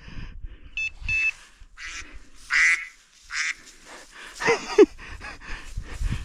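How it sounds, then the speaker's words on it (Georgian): A duck quacking serves as a morning alarm clock, giving several loud, close quacks in irregular bursts, with a few short beeping tones near the start and brief pauses between calls. "იხვის ხვაზე ვიღვიძებ ყოველ დილას"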